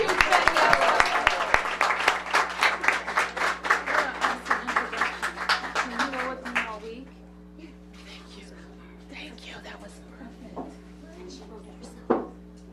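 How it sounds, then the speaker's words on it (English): An audience at a Washington, D.C. event with Mayor Muriel Bowser launching Learn24 claps energetically for about six seconds, then the applause dies away into a quiet room with a low electrical hum and scattered faint sounds. "Let's give Daniela a big round of applause."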